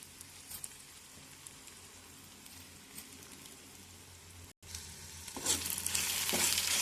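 Egg masala fries in a pan with chili powder, giving a soft, steady sizzle with a few light taps, then a brief cut before the hiss swells louder and brighter near the end, with no talking.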